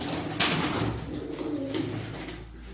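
Young pigeons, fresh squabs, coo softly in a close, brief run of low murmuring calls, alone with no talk.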